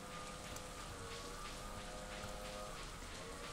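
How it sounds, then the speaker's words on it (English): Rain falling in the farming video game Stardew Valley, a steady, even patter and hiss continuing throughout at low volume, with no voices. "I guess we'll go up to the mine for a bit, since it's raining."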